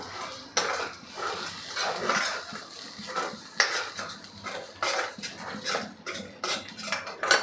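Metal utensil scraping and clinking in a pan as peanut masala is stirred with a little turmeric, with repeated uneven scrapes and taps close by.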